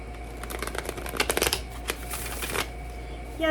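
A deck of playing cards with a memento mori back design is riffle-shuffled up close, a quick rapid run of papery flutters that ends in a soft bridge, over a steady low room hum.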